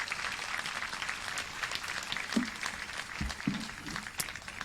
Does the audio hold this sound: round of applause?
yes